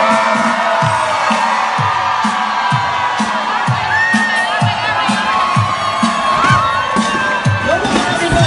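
A large crowd on a cruise ship cheers, whoops and shouts continuously during a carnival balloon drop countdown, with a loud, dense roar and rhythmic chanting throughout.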